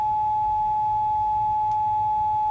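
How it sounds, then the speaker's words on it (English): A steady, low 850 hertz test tone hums alone and unbroken in the background, with a faint soft tick partway through and no other sound. "a little low 850 hertz tone in the background"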